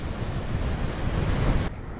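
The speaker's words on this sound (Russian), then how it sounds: "Ну, блин, ветер, как в стену едем. Очень мощный." Strong headwind buffeting the microphone in a loud, rushing roar while travelling, dropping off abruptly near the end.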